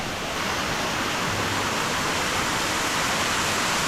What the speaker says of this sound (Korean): You swim in the waterfall.